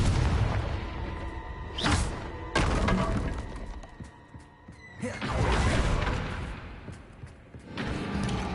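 Confringo fire spell explosions in the Hogwarts Legacy video game, several loud booming blasts with shattering, crashing debris that swell and fade across the stretch, with no talk.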